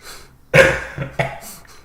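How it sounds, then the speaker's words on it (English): A person gives a few wet, chesty coughs in quick succession, close to the microphone, three bursts with short gaps between them. "We're both coughing through the end of this"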